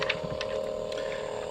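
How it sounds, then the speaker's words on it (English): Hasbro Power Rangers Lightning Collection Power Morpher toy emitting a steady, faint electronic glow hum, a sustained tone with small clicks, heard alone without voices. "Now it does this glow hum thing, which I think is pretty cool."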